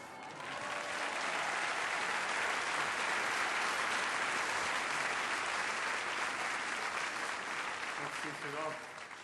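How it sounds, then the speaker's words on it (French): An audience at a comedy show breaks into sustained, dense applause that swells and holds for several seconds before tapering, close and full, with a voice faintly heard near the end. "C'est gentil d'applaudir"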